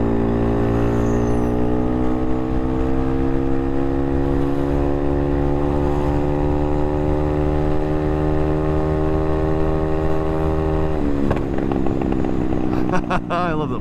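The engine of a Honda Navi motorbike drones steadily at close range, its pitch rising slowly, then drops off into crackling, popping exhaust sounds at the end.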